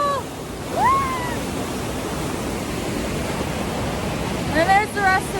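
Standing in the middle of a waterfall, a steady broadband roar of rushing water fills the scene, loud and close, with a few brief whistles and shouts breaking through.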